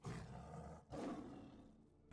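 A lion roar plays as an animal sound in the Roblox game Flee the Facility: two loud, close roars, the second stronger, fading out alone.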